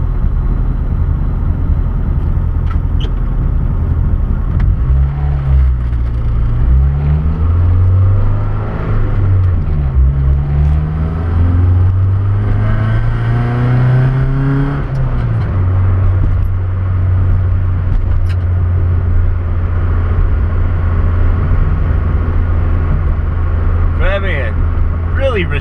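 A Ford Festiva 1.3 engine fitted with Kawasaki motorcycle carburetors idles loudly, then revs up and down in several rising and falling sweeps before settling back to a steady idle, close and continuous.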